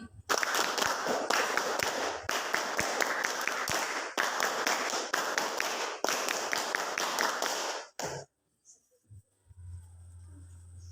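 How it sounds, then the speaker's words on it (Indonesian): A class of schoolchildren does the rhythmic 3-3-7 clap twice, with bursts of sharp, tightly grouped claps in a repeating pattern that stop abruptly, followed by a near-silent room. "Tepuk 337 2 kali."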